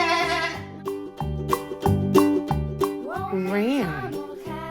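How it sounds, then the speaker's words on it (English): A goat bleats in a children's farm-animal nursery song, its wavering cry rising over a bouncy, rhythmic musical backing near the end of a sung passage. "Say, what's this? A goat."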